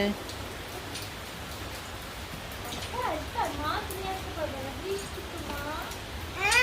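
Rain patters on a rooftop garden, a soft, continuous wash of drops beneath a few brief chirping, voice-like calls.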